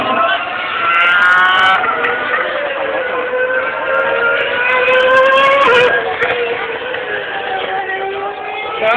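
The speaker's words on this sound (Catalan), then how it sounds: "Mira, ahí es el Ferrari." A Ferrari Formula 1 car at 2008 Cheste testing, its high-pitched engine wailing and shifting pitch as it passes, loud and sustained with a brief dip near the middle.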